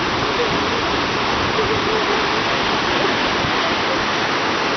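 Steady, loud rushing roar of a waterfall below Neuschwanstein Castle in Bavaria, a dense continuous wash of falling water with no pauses, filling the whole scene and heard up close without any voices.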